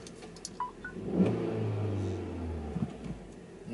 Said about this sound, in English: Le moteur fait pas le bruit d'un V8 Ferrari, d'accord, mais on l'entend pas trop.